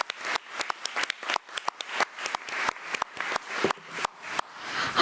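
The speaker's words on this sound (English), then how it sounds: "Let's give our above and beyond students another round of applause" A round of applause for honored students at a school policy committee meeting: sparse, distinct claps from a small audience in a steady irregular rhythm, fairly quiet and close, with no talking.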